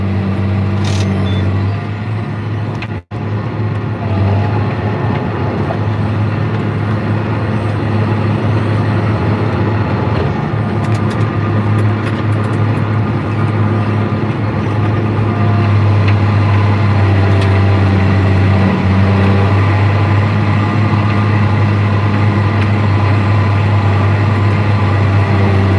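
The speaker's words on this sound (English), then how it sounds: "You can hear the tractor when I hit the compaction." A John Deere 9300 tractor pulls a 7-shank disk ripper through a field, a steady, loud engine drone with a low rumbling hum running continuously nearby.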